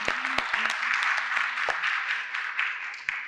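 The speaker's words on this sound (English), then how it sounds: "Can we have another round of applause, please?" Audience applause at a conference panel session, a dense wash of clapping with a few sharper individual claps standing out, steady and moderately loud before easing slightly toward the end.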